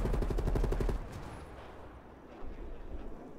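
Close, loud automatic AK-47 fire in Call of Duty: Cold War, a rapid burst of shots for about a second that then gives way to a quieter, rumbling game backdrop.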